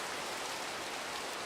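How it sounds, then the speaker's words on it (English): Rain falls in a Minecraft survival server during a stormy spell, a steady, even hiss of drops with no pauses or voices over the short stretch. "Yeah, it's been raining"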